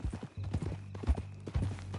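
Horse hooves clip-clop in a quick, even rhythm of close, hollow knocks in Red Dead Redemption.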